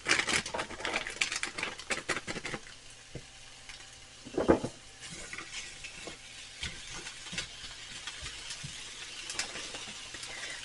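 Breakfast hash sizzles steadily in a hot frying pan, with a few louder scrapes and stirring knocks early on before settling into a quieter, continuous crackle.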